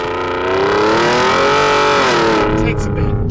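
A tuned Ford Raptor with a 10-speed transmission accelerating at full throttle, its loud, close engine roar rising and holding steady before easing off, with someone talking over it.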